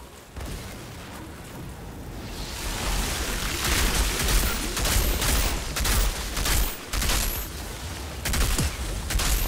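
Mortar shells exploding in the video game Outriders, a dense, loud barrage of overlapping booms and blasts that rolls on without pause, with no talking over it.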